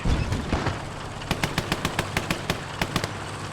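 Rapid gunfire in the WWII multiplayer game Gates of Hell, Finland versus USSR, with a burst of sharp, loud cracks in quick succession, about one every fifth of a second, over a dense battle din.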